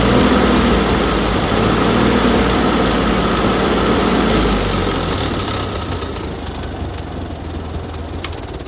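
Ford 2N tractor engine running steadily at a loud, close idle, with a constant low rumble that eases slightly toward the end.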